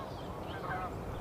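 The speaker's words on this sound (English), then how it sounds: "The geese, of course, well, they kind of never shut up." Geese honk faintly in the distance over a soft, steady outdoor background.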